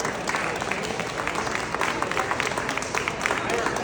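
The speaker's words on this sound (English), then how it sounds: "Round of applause." Audience at a senior citizens' celebration event in Elmwood Park claps steadily in a round of applause, a dense, sustained patter of many hands filling the hall with no pause.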